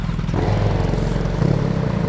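A BMW R18 motorcycle's big boxer engine idles close by with a low, throbbing rumble and some mechanical clatter, running continuously for a couple of seconds.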